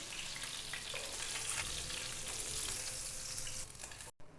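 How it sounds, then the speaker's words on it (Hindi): Fish fried in hot oil in a kadhai for a white fish handi sizzles steadily and fairly loudly, a dense continuous crackle with no voices, cutting off abruptly near the end. "दोनों साइडों से फ़िश को हमने लाइट गोल्डन कर लिया है।"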